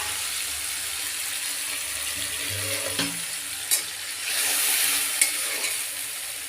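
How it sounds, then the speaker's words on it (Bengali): Fish going into hot oil sets off a continuous crackling sizzle, close and even, broken by a few brief knocks and a louder surge of hiss partway through. "দেখুন আমি এটাকে দিয়ে দিলাম তেলের মধ্যে।"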